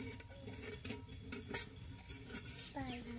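Flipping a sabudana and bhagar dashmi flatbread on a pan, heard as clinks and scrapes of utensils against cookware over a steady background hum, ending with a faint tonal sound.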